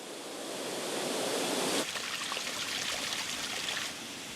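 Soft, continuous rushing and trickling of flowing water, steady and fairly close, with a brief shift in texture partway through.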